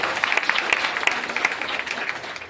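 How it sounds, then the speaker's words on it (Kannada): Applause for a school kho-kho team at a school gathering, many hands clapping together in a dense, steady burst at moderate distance, with no talking heard. "ಜೋರ ಚಪ್ಪಾಳೆ ಬರಲಿ"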